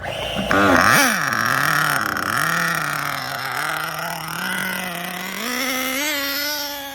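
A Mugen MBX5 1/8-scale nitro RC buggy engine runs loud and close, its high, buzzing whine rising and falling in pitch with throttle changes throughout, broken-in after sitting fuelled for weeks.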